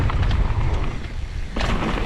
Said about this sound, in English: It is a little bit windy.